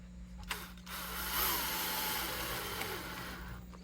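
A Bosch power tool runs steadily near a 1969 Stratocaster during a stainless steel fret job, a broad whirring drone that starts after a brief clunk, holds for about three seconds, then winds down.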